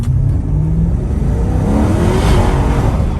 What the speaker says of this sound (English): Okay, let's try a launch here from 0, just so you can see what it's like.